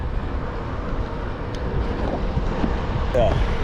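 Wind buffeting the microphone while cycling on the East Coast Road, a loud continuous low rumble and roar, close and steady with a couple of faint tonal squeaks.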